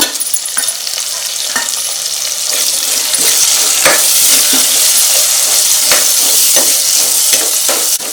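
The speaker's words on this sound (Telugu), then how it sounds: "ఒక ఉల్లిపాయ తీసుకుని ఫ్రై చేయాలి దోరగా" Chopped onion and green chillies fry in oil in a pan for a snakehead fish curry, a loud, steady sizzle crackling throughout with scattered clinks and scrapes of stirring and no talk.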